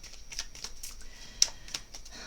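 Astrozen oracle cards shuffled for a reading, giving soft papery riffles and light flicks with one sharper snap partway through, close and quiet with no talk.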